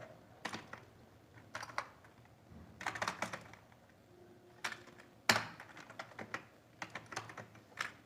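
Python pandas code being typed on a computer keyboard: irregular bursts of crisp key clicks with short pauses between runs, close and fairly quiet, and no one speaking.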